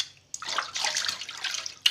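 Jalebi fish are washed by hand in water, with bursts of splashing and sloshing close by after a short pause, and no talking.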